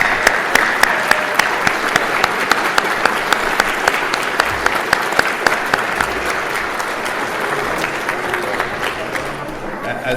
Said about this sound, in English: Leaders, please join me in a round of applause for the 30 of our region's planning leadership.